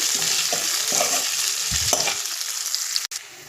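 Potatoes frying in a pan with salt and turmeric for potato rice, a loud, close sizzle with scraping stirs and low bumps of the spatula, cut off abruptly by a sharp click before a quieter hiss resumes.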